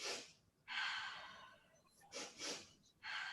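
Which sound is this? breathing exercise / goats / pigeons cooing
breathing exercise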